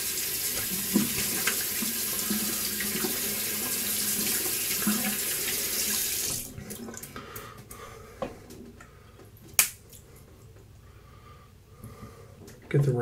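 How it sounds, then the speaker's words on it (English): A sink tap runs steadily for about six seconds as hands are washed under it, then shuts off, leaving quiet handling clicks and small knocks near a bathroom sink. "Wash my hands off."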